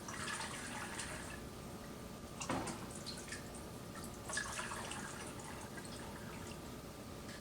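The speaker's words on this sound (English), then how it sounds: "I just pour my liquid in the top. And there is like little strainer holes on the top, so it is straining it again" Homemade chicken stock trickles through the small strainer holes on top of a fat separator, a soft, steady liquid patter with a couple of brief louder splashes as more is poured in.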